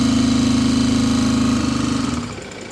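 A gear-driven engine valve gear in a machine shop shuttles back and forth in a rapid, even mechanical chugging. It runs loud and close, then slows and fades at the end.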